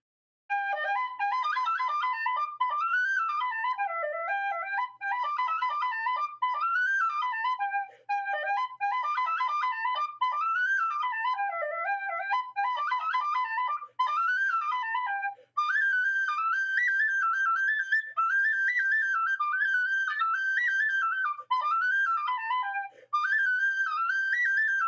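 A McNeela Setanta tin whistle plays a lively melody, bright rapid runs and trills with short breaths between phrases, clear and close with no talking.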